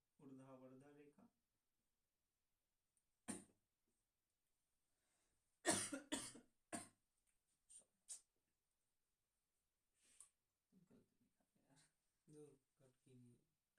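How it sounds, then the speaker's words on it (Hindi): Several separate coughs, loud and close, with brief speech before and between them and long silent gaps. "बार बार खांसी आ रहा है।"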